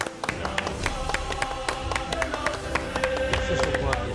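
Audience at a Peña Madridista del Prat gathering claps in a brisk, uneven patter of distinct hand claps, fairly close, with a tonal hum and faint voices underneath.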